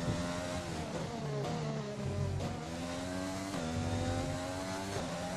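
Formula 1 race car engine from the F1 2020 video game, racing at the Chinese Grand Prix, revs loudly and continuously with rising and falling pitch through gear changes, with no talk over it.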